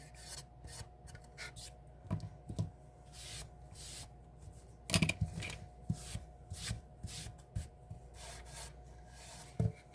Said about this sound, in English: I'm scuffing it up